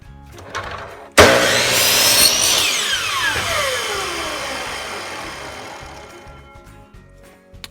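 A power saw bites into small wood pieces cut at a bevel for a rustic Christmas cross. It starts with a sudden loud whine, then spins down with a falling tone over several seconds, with no talk.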